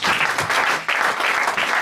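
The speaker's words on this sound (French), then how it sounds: "Donnons une acclamation." A church congregation breaks into sustained applause at a French-language sermon, a dense, loud wash of clapping with a brief dip midway before surging again.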